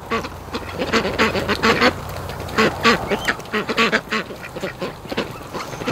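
A flock of ducks quacks and honks repeatedly in loud overlapping bursts near a frozen lake on a cold morning, with a constant low background rumble underneath.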